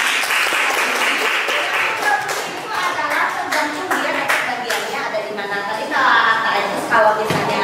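Classroom applause from students clapping together, a dense continuous patter of many hands with voices and chatter mixed in throughout.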